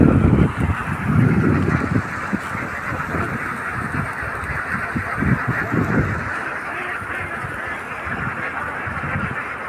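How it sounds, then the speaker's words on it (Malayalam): A flock of ducks crosses a road on the way to Kooranad town in Palakkad, a loud, dense chorus of overlapping quacks and honking calls filling the whole stretch, with traffic noise mixed in. "പോണ വഴിക്കാണ് താറാവുകൾ ഇങ്ങനെ റോഡ് ക്രോസ് ചെയ്യണത്"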